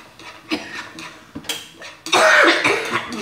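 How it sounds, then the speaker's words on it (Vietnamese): A woman coughs several times while cooking chili-spiced caramelized peanuts with fish sauce, sugar and garlic, short harsh coughs close by with utensils clinking against a pan, then a louder sustained burst of sizzling or scraping. "Cô đang ho, nghe mùi ớt cô ho quá."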